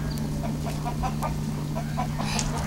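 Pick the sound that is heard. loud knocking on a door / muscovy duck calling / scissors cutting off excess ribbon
muscovy duck calling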